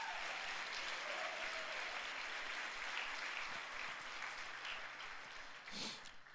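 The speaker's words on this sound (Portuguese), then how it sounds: "Dê uma salva de palmas" A church congregation at a Sunday service breaks into sustained applause that holds steady, then thins and fades near the end, with a brief louder rustle just before it stops.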